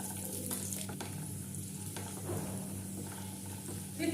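Cashews and rinsed, squeezed raisins fry together in a pan with a faint, steady sizzle and a low hum, and a few light stirring taps break through.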